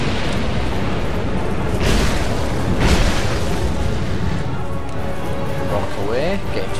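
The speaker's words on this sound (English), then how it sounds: "Okay, do your fire breath." A boss's fire breath attack in Dark Souls 2: Scholar of the First Sin: two heavy roaring bursts rise out of a dense, steady rumble of game sound and music.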